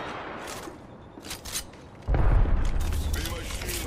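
A grenade in Apex Legends goes off with a sudden heavy low boom about halfway through, followed by a sustained rumble, after softer gunfire and game noise beneath voices.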